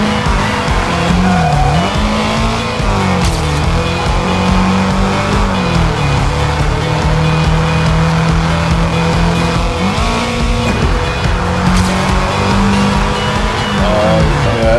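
Race car engine in the TrackMania 2 video game, a loud continuous whine rising and falling with gear changes, with brief tire screeches, alone without talk.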